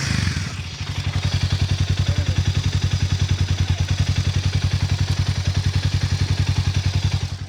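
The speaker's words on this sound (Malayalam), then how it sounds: "ഡ്രൈവിനെ കുറിച്ച് പറയുന്നതിന് മുമ്പ് ഞാനിതിൻ്റെ എക്സോസ്റ്റ് നോട്ട് ഒന്ന് കേൾപ്പിക്കാം" A Hero Mavrick 440 motorcycle sits at idle with a steady, close, rhythmic exhaust thump after a brief startup, its pulses even and loud throughout with no talking.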